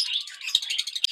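Lovebirds in breeding cages chirp in a busy, high-pitched chatter, a steady stream of overlapping tweets with a few sharper calls standing out close by.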